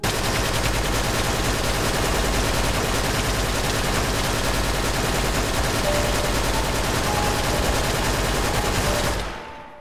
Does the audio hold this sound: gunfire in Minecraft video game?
yes